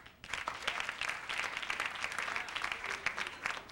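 An audience bursts into steady applause, many hands clapping together for a few seconds.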